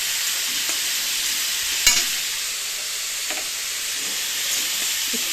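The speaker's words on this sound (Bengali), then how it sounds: "হয়ে যাচ্ছে জিরেটা ভাজা।" Cumin seeds fry in a pan with a constant bright sizzle, broken by a sharp clink of a stirring utensil near the middle and a few softer scrapes.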